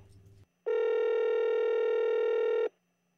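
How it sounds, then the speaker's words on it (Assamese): A landline telephone gives a single loud, steady electronic ring lasting about two seconds, preceded by a brief murmur of background sound and followed by quiet. "নিশ্চয় মাৰ ফোন কৃষ্ণ"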